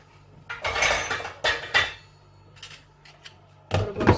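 A metal lid goes onto a pot of mutton pulao with several clattering clanks and scrapes, close and fairly loud, separated by short quiet gaps.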